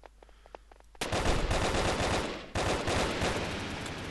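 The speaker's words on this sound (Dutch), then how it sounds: "Ik hoor het geschiet, ik probeer daar naartoe te gaan." Sustained automatic gunfire in the BrickForce video game erupts after a quiet moment of faint distant shots, a loud rattling burst that briefly cuts off and then resumes, heard alone without talking.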